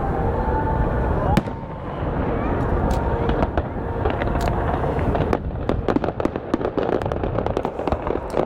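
Fireworks burst at the Calgary Stampede, with sharp cracks and crackling pops scattered over a steady roar of crowd and ambient noise, the explosions coming irregularly and fairly close.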